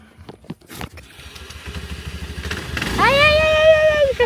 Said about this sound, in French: il fait chauffer le moteur.